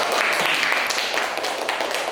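A third-grade class in an elementary school claps hands together, a short, dense burst of continuous clapping at steady loudness, without any talking over it.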